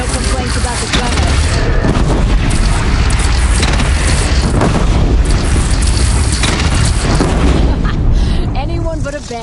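Cannon fire in the Horizon Zero Dawn video game, loud booming blasts over a dense roar of battle with characters shouting throughout.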